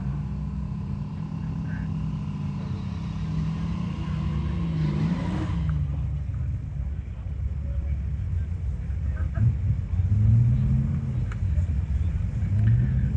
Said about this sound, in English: So Brian Atwood in the 61 Skylark, this is the somewhat shorter and more narrow version of the Buick Skylark before they went to the 64 A-body platform